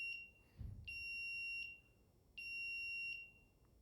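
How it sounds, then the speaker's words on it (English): An Arduino motion-activated alarm buzzer beeps in a shrill, steady electronic tone, sounding in two long stretches with brief pauses between pulses, loud and close. "you should hear a beeping"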